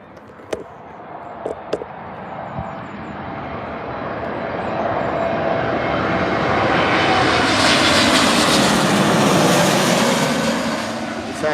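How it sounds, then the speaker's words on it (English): A Turkish Airlines jet arriving from Istanbul lands at Birmingham airport, a few clicks and thumps giving way to a broad engine roar that swells as it draws near and stays loud through the end. "Turkish Airlines from Istanbul. And And they are down."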